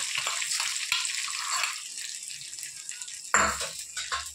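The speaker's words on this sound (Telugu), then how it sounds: "నేను పప్పులో తాలింపు పోసేసాను" Hot tempering poured into gongura dal, a hissing sizzle and bubbling crackle that flares sharply at one point and then settles, with soft stirring rattles.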